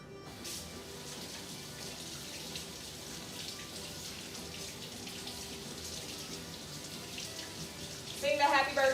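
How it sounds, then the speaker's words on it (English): Tap water runs in a steady, close stream while hands are washed at a kitchen sink, with a brief clatter and splash near the end. "wash your hands."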